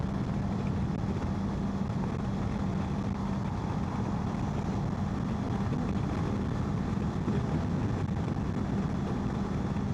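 A Kawasaki KLE 500 motorcycle climbs a hill at steady speed, its engine giving a constant, even drone mixed with wind rush throughout.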